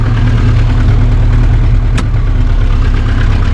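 The engine of a 1980 IZh Kombi car idles steadily and loudly up close with its headlights switched on, a low continuous rumble with one brief click partway through.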